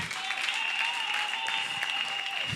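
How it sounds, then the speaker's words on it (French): Hall audience applauding at a Congolese rumba gospel singing contest, a steady dense clapping that runs the whole time, with a sustained tone held beneath it. "Est-ce que la salle peut applaudir pour Plamedi?"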